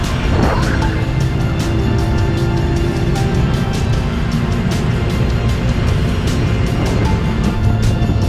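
Loud, steady engine roar of dense motorcycle traffic in Vietnam, heard from a moving motorcycle, with revving motors and passing vehicles, close and continuous, with occasional rattles and clicks.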